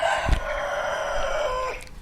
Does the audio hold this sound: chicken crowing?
yes